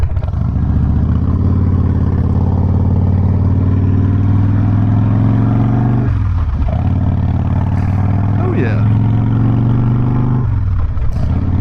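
A Harley-Davidson Softail Fat Boy motorcycle rides off with a loud, steady V-twin engine drone that rises through the gears, briefly dipping at each shift, heard close and continuous with no talking.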